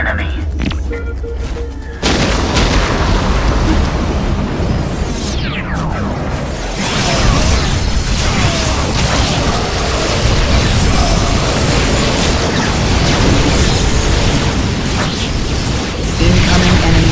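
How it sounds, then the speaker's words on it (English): Artillery fire and explosions in the Warhammer 40,000: Dawn of War – Dark Crusade strategy game, a dense continuous roar of booms and bursts with a whooshing sweep early on, loud throughout and mixed under game voices. "Incoming enemy fire."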